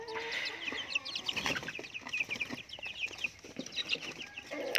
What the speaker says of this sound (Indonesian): Ini ayam KUB, jadi masih belum banyak yang tahu terkait ayam ini teman-teman.